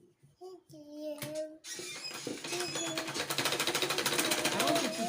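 A sewing machine stitches the sleeve of a wrap peplum blouse with a circle sleeve, starting after a few soft handling sounds and building into a fast, steady, close mechanical rattle.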